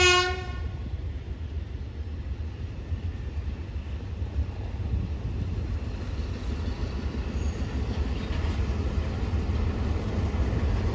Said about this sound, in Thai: 551 ออกไปแล้ว เป็นรถสินค้านะครับ